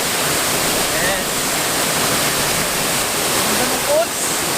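Rushing water at a waterfall in Ilocos, a loud, continuous broadband roar filling the whole clip with no clear break.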